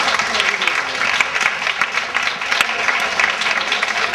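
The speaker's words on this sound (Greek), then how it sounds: "Χειροκρέμα, χειροκρέμα." A crowd at a Greek dance studio applauds steadily for several seconds, with voices mixed in.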